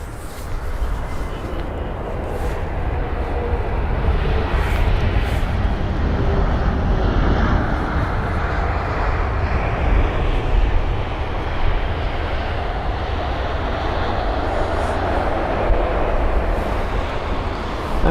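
A Boeing 747 cargo jet lands at London Heathrow at sunset, a loud sustained low jet roar filling the air from start to finish and swelling slightly in the middle, with no talk over it.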